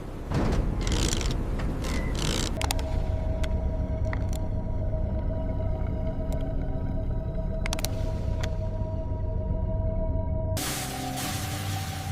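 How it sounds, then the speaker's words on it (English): Winch turning as it lifts a Lincoln Continental onto a platform: a steady mechanical whine with a sustained tone, dotted with sharp ratcheting clicks, loud and continuous, then a brief shift in pitch near the end. "Slowing port side winch rotation now."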